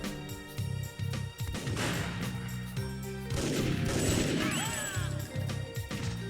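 Pistol and other gunfire in the PlayStation 2 first-person shooter TimeSplitters, repeated shots and impacts mixed with game music and effects, no talking.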